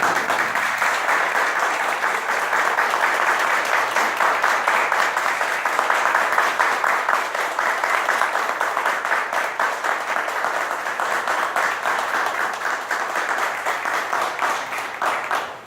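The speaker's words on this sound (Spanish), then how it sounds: "voy a pedir un aplauso para él en esta noche" Sustained audience applause at an evening lecture, a dense, even clatter of many hands clapping that continues strongly for about fifteen seconds before tapering at the very end.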